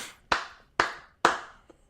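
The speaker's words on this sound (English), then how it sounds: "Round of applause, man." Three sharp, evenly spaced hand claps ring out close and alone, each decaying quickly, followed by a faint fourth tap.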